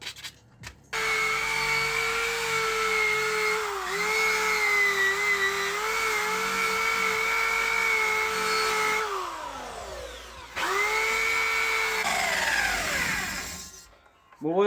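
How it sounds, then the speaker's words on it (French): Rusty welds on a chrome motorcycle exhaust being sanded with a power tool, a loud, steady whining grind that briefly winds down and restarts, close up. "là je suis en train de poncer les soudures parce que elles étaient extrêmement rouillées"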